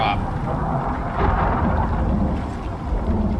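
Deep, steady rumble of thunder rolling through a massive storm that blew in suddenly, a broad low roar with slight swells and no distinct claps.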